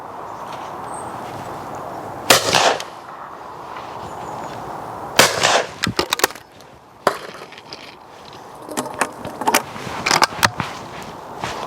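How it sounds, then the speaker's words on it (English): Shotgun blasts from Fiocchi cartridges fired at clay targets, sharp loud reports arriving mostly in pairs, with quieter outdoor background between the shots. "I'm going to shoot a couple of pairs through each one"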